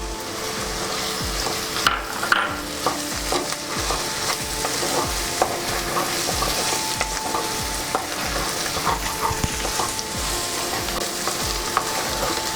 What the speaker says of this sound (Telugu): ఇప్పుడు మనం వేయించి పెట్టుకున్న రొయ్యలు కూడా వేసేసుకుందాం.